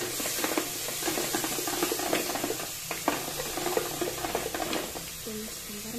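Garlic and ground spice paste sautéing in a little oil for chicken-foot soup, a soft continuous sizzle with busy stirring and scraping throughout, fairly close.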